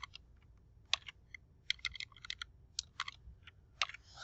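Keys typed on a computer keyboard to enter shortcuts, a quiet, close run of irregular clicks and taps in short bursts, with brief pauses in between.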